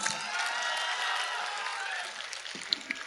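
Applause from a mushaira audience rises as a faint, diffuse wash of clapping and crowd noise, steady for about two seconds then thinning out to a few scattered claps.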